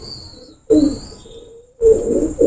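Pigeons coo close by in two low, throaty phrases, with faint chirps in the background.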